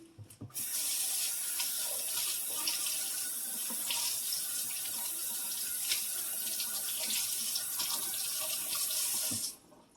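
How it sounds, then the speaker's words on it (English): Tap water running steadily into a sink while a roast is rinsed, a loud close continuous gush that starts abruptly, holds for most of the span, then cuts off, with no talking. "I'm going to rinse my meat."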